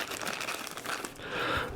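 A plastic bag crinkles and rustles close up while new Edifier WH700NB wireless headphones are unboxed, with short uneven crackles and a louder crumpling burst near the end.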